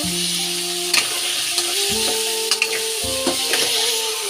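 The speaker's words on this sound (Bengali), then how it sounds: "আলু আর চিংড়ি মাছ একসাথে ভেজে নিব" Shrimp and potato pieces frying together in a pan with salt, a steady close sizzle with a few sharp clinks of a utensil stirring against the pan, no speech.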